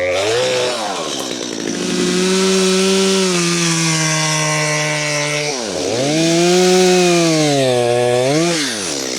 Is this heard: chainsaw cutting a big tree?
yes